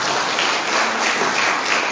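A church congregation at a Sunday service claps together, a loud, dense and continuous burst of many hands with no voices over it.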